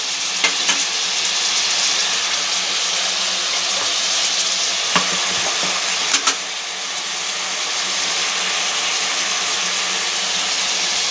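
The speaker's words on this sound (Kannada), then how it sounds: "ಇದು ಮಟನ್ ಎಲ್ಲ ಎಣ್ಣೆಯಲ್ಲಿ ಫ್ರೈ ಆಗಿದೆ" Mutton sizzles steadily in hot oil with spices for a Karnataka-style nati mutton pulao, a dense continuous frying hiss broken by a few brief clinks and stirring knocks.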